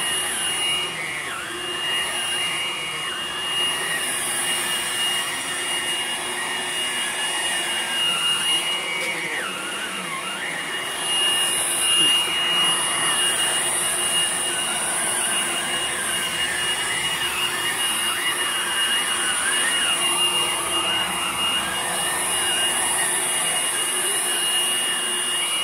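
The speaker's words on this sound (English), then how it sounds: "Vacuuming." Hoover Blade Plus vacuum cleaner running steadily with a loud, continuous high-pitched whine and airy roar, close and unbroken throughout.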